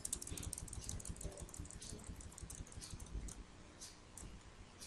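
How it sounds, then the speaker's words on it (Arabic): Computer keyboard typing in a word processor, a quiet run of rapid irregular key clicks that slows and thins toward the end, with no voices. "رح نجرب، راح تضل اكتب فقرات"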